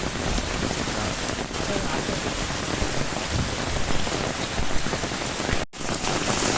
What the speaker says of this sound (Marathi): पहिला पहिलाच पाऊस आला